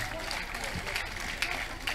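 Crusade crowd in Abuja claps as a praise offering after a reported healing, a fairly faint, diffuse spread of hands with scattered sharper claps and voices mixed in.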